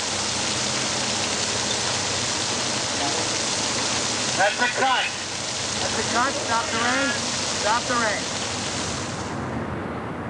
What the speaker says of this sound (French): Plus la rampe est haut placée, plus la pluie est drue et la ressemblance réussie.